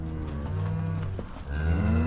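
Cows mooing in a pen during calf weaning, several long, deep, loud calls that overlap close by, with no talking.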